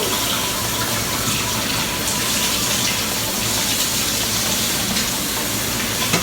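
Hot water gushes steadily from a kitchen tap into a sink, a loud, constant broadband rush with no break.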